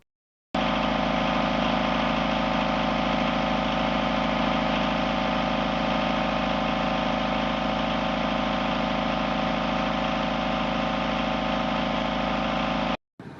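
A boat engine idles at a steady 1600 revs on the Swale and Medway, a constant low mechanical drone that runs unchanged for about twelve seconds before cutting off abruptly.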